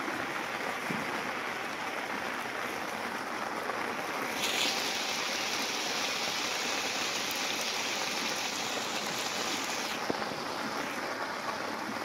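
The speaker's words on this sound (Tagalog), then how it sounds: "Grabe ng ulan." Heavy rain pours down steadily, a dense, loud hiss that continues without a break.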